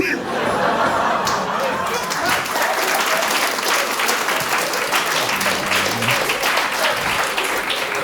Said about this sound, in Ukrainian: ви аплодуєте